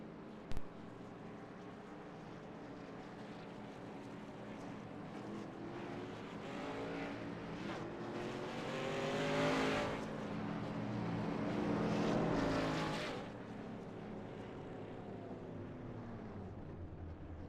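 Vintage Grand National stock cars roll down pit road at Dover, engines droning steadily with a swell of louder, closer passes midway before easing back to a constant roar.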